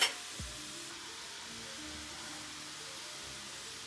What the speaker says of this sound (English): you see how it's sizzling a lot